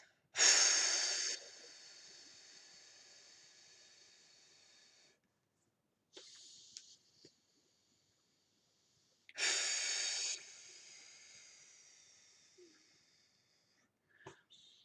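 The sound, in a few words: alternate nostril breathing, one nostril held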